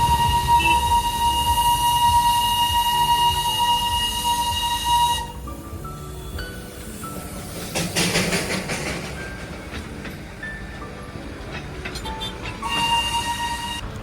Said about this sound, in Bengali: জ্যামের সুবাদে আমরা দুটো টয় ট্রেন পরপর দেখতে পারি ওই দেখো আরেকটি আছে ধোয়া ছাড়তে ছাড়তে